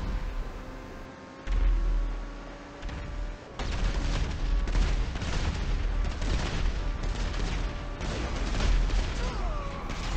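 A car blows up in GTA V on the streets of Los Santos as an asteroid strikes: a sudden loud blast erupts into a sustained, rumbling roar of explosions and crackling debris, with fainter tonal game sounds running beneath.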